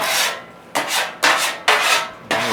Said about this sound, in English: You just kind of get at this stuff that's just stuck on here, all right? So just scrape it just like this.